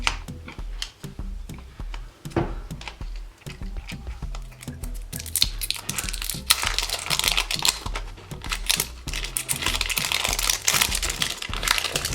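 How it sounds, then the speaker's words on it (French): Plastic wrapping on a 5 Surprise toy ball being unwrapped up close, with steady crinkling and crackling punctuated by sharp ticks and snaps that grow busier toward the end, with no speech. "Troisième jouet que je vais ouvrir c'est une boule 5 surprises"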